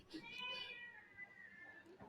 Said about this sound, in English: The cat is meow meow, meow meowing.